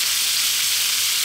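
Garlic rosemary lamb chops sizzle in a skillet as they crisp, giving a steady, loud, close-up frying hiss with no voices.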